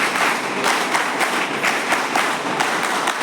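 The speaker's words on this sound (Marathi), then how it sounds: "त्यांच्यासाठी टाळ्या वाजवा." A crowd at a school function claps in sustained, dense applause, the hand claps blending into an even roar without pause.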